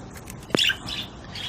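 A female budgerigar being handled gives a single sharp squawk in the middle, preceded and followed by soft, faint chirps in a quiet room.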